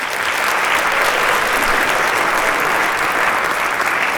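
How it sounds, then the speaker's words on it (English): Steady, loud audience applause fills the room at a high school Shark Tank-style event as a student team is introduced, with dense clapping sustained evenly throughout and no pauses. "So if you get a big round of applause for Nick Langner"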